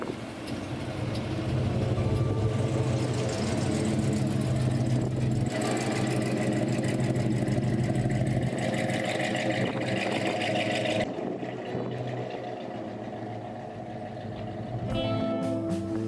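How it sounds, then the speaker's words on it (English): Lowrider cars roll up one after another for an impromptu car show on an old town plaza, engines idling and rumbling steadily at moderate distance, with a brief lull before another car draws closer near the end. "It appears more cool cars are coming out for an impromptu car show on the plaza"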